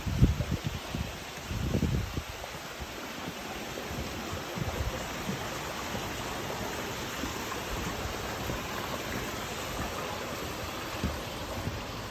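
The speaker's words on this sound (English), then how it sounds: "some more lovely waterfalls." Steady rushing water from a waterfall on the West Highland Way fills the background, a constant even roar with a few soft rustles near the start and no voices.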